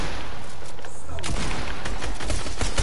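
Gunfire in a shooter video game, with dense, continuous shots and booms filling the clip at a loud level.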